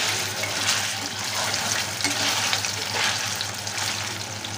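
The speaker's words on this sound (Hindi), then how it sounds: "इसमें डाल देंगे हम सबसे पहले अरबी, थोड़ा सा हम इसे फ्राई कर लेते हैं।" Taro frying in mustard oil in a kadhai gives a loud, dense, continuous crackling sizzle, steady throughout without pauses.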